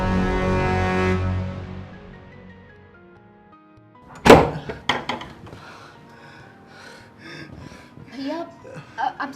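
Heavy thuds of someone banging on a closed door, a loud cluster of knocks after a quiet stretch, mixed with a pleading voice and background music fading out.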